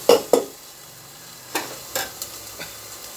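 Fish fries without oil in a pan over low heat, with a faint sizzle under a handful of sharp utensil scrapes and taps against the pan, spaced irregularly.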